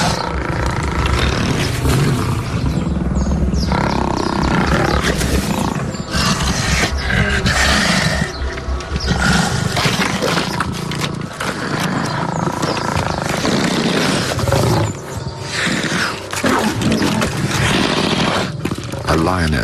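Lions scuffling over an antelope carcass in the wild, with rough snarls and roars amid a dense, loud, continuous wash of noise throughout.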